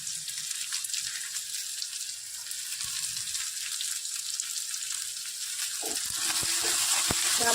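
Spring onion greens sautéing in a pan for Maharashtrian brinjal bharit, a steady close sizzle with faint crackle throughout, growing a little louder near the end.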